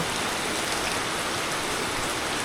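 Steady rain falls outdoors in a village neighbourhood, a dense, even hiss of drops on surfaces that fills the whole stretch without a break, with no talk.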